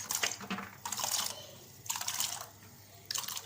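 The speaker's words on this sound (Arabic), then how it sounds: "ادي ميه على البوتاجاز" Water poured into a pot on a gas stove, several short splashing bursts with brief pauses between them, close and fairly quiet.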